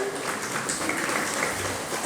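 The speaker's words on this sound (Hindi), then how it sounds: "बजाओ ताली।" A crowd at a religious discourse claps together in a steady, moderately loud patter of hands that continues evenly throughout, with faint voices mixed underneath.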